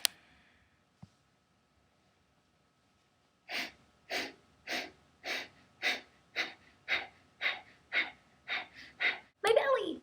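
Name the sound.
Bhastrika pranayama bellows breathing, forcing air out the nose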